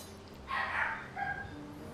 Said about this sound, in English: I don't know if y'all can hear the dog.